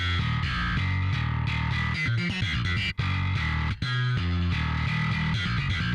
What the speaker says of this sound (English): I don't like the amount of distortion that we have now